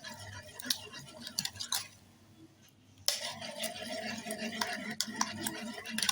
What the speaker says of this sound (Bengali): চিনিটা যতক্ষণ গুলে না যায় ততক্ষণ এটাকে আমি ফাটিয়ে নেব।